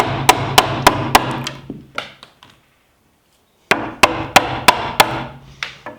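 A 1.5 inch chisel is struck repeatedly to rough out a wooden bow handle, sharp close knocks in quick bursts of four or five, separated by a short silent pause.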